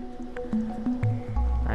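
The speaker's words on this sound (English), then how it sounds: "Oh, the pipe's leaking." Water drips from a leaking pipe in the video game Stray, giving a few soft squishy drops at irregular intervals over quiet ambient tones, with a low thud near the end.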